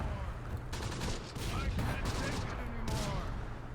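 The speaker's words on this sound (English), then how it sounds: "I'm going to drop that artillery right in the town to try and take out the enemy armor" Distant artillery and gunfire rumble in the World War II strategy game Close Combat, a faint, dense spread of overlapping blasts and cracks with no clear gaps between them.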